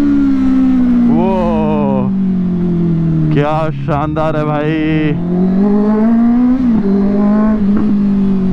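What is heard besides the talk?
Honda CBR650R superbike engine revving while riding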